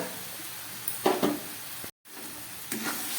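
Jaggery and coconut frying in a pan, giving a soft sizzle with short bursts of stirring and scraping, close and moderately loud, interrupted by a brief moment of total silence.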